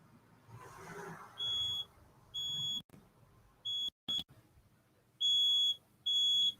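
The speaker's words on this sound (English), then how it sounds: "Infrared shadow detector." An infrared shadow detector running on test batteries gives short, high electronic beeps, heard in several irregular bursts at close range in a quiet room.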